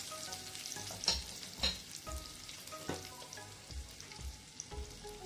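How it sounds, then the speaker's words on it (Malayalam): Crushed garlic and curry leaves fry in a pan for a green pepper rasam, giving a steady soft sizzle with periodic scraping stir strokes about every half second, close and moderately quiet, with no talking. "ഈ വെളുത്തുള്ളി ഒന്ന് ഫ്രൈ ആയി തുടങ്ങുമ്പോൾ നമുക്ക് അതിലേക്ക് ഒരു നുള്ളു മഞ്ഞൾപ്പൊടി കൂടി ചേർക്കാം. നന്നായി ഫ്രൈ ആയി തുടങ്ങിയിട്ടുണ്ട്."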